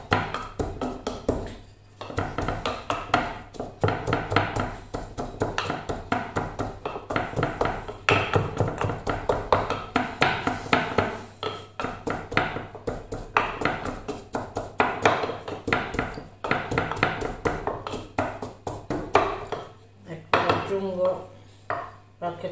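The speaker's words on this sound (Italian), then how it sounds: "io ora vado a pistare un po'. Non deve essere proprio pistato pistato, eh." Garlic being pounded and crushed in a home kitchen, steady rapid thuds and knocks repeating close up for the whole stretch, no voices over it.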